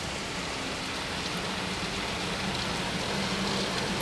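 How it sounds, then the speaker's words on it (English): A heavy rain downpour hammers on a car in a dense, continuous hiss of drops at steady loudness, with no one speaking. "I assume you can hear the rain."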